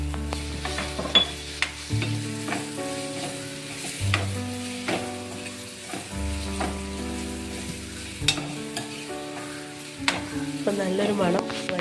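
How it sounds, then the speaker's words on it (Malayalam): Prawns frying with crushed dried red chili in a pan, stirred with repeated scraping and a steady sizzle, while background music with low sustained tones plays along throughout. "നന്നായിട്ട് ഇളക്കി കൊടുക്കുക"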